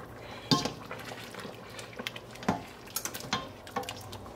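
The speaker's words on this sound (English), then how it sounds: "Let's take the lid off." A metal lid comes off a pot of bean stew after nearly three hours of simmering, opening with a sharp clank followed by lighter clinks and soft bubbling.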